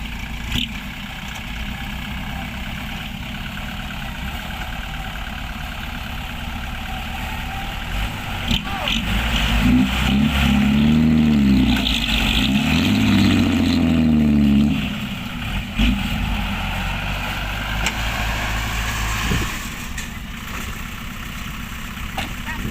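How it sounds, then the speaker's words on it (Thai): A farm tractor's engine rumbles as it pushes a vehicle stuck deep in mud, a steady low drone that swells louder midway, then settles back, with no talk. "รถไถช่วยดันตูด"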